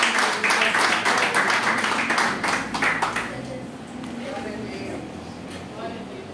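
A church congregation claps in praise, a dense, loud burst of applause for about three seconds, then dropping away to murmuring voices and a low room hum.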